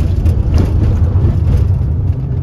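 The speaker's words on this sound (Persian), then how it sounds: "این سر و صدایی هم که میشنوی همش مال داخل و صندلی و سرنشینی که بغل من هست، پایه دوربین و یکم ماشین سر و صداش زیاده" Inside a front-wheel-drive car while driving, a steady low engine and road rumble fills the cabin with faint rattles from the seats and a camera mount, close and constant, with no talking.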